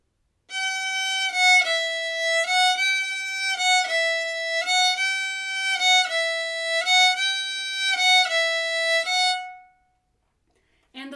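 A solo violin plays a short bowed practice phrase from the fiddle tune 'Red Haired Boy', repeated notes in an even rhythm, clear and close, then stops.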